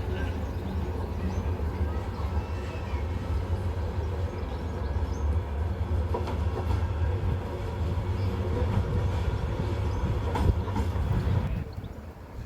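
A tram at MediaCityUK, near a single-track section, rumbles along rails with a steady low drone and faint clatter. Talk runs quietly underneath until the noise drops away at the end.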